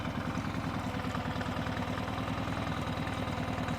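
A Storm F18 engine with exhaust idles steadily, recorded right at the engine, a continuous low rhythmic rumble with even pulsing and no other sounds.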